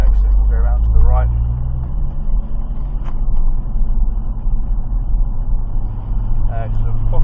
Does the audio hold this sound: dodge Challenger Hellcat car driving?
yes